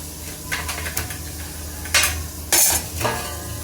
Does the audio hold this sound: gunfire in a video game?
no